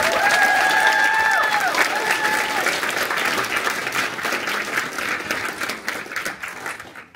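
Audience applause for pageant candidates at a high school Rose Festival princess reveal in East Portland, loud and steady clapping with a few whistles early on, slowly thinning toward the end.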